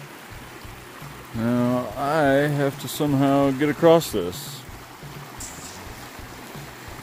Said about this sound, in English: first I'd have to cross the creek here